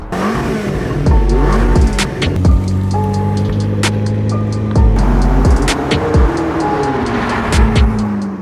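A 2012 McLaren MP4-12C supercar driven hard, its engine repeatedly revving up loud and close through rising gears, then dropping briefly between shifts in a continuous powerful roar.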